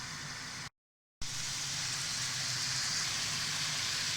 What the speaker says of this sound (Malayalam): അടുത്ത ബാച്ച് ചിക്കനും ഇതേപോലെ തന്നെ പൊരിച്ചെടുക്കാം.